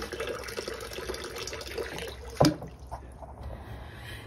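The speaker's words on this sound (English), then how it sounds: "the water that comes out of it is perfectly clear" Water runs from the tap of an IBC storage tank on an off-grid horse property, a soft steady flow broken by a single brief knock partway through.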